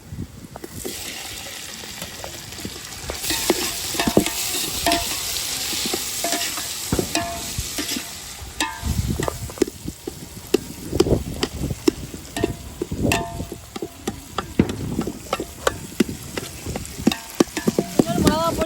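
Onions sautéing in a pan for a fish curry, a steady close sizzle and crackle with scraping stirs throughout, growing busier and more sputtering toward the end.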